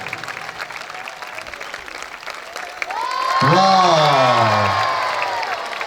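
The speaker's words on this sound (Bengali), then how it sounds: "তালি তালি তালি বাজতে থাকবে জোরে তালি হবে আরো জোরে" Crowd applause at a football tournament trophy ceremony in Pallabi, Rupnagar, swelling from steady clapping into louder, fuller applause with cheering, while a voice speaks over it in a sustained, rising tone.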